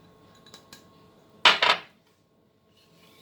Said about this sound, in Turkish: Şimdi tekrar karıştırıyorum.